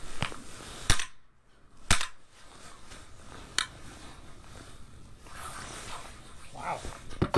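Shotgun blasts during a duck hunt on a heavily hunted marsh: two loud, sharp reports about a second apart, then a fainter pop a moment later over a quiet outdoor background.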